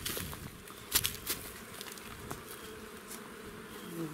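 Honeybees fly around hives at a Ukrainian apiary in the Vinnytsia region, a steady close buzzing drone with a few louder passes near the listener.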